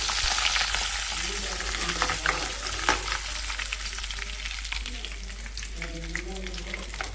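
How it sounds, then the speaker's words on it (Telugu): Two chillies and seeds frying in hot oil as a tempering for lemon rice, giving a steady close sizzle with brief crackles and stirring scrapes throughout. "ఫస్ట్ రెండు మిరపకాయలు వేస్తానండి మస్తు వేస్తాను గింజలు"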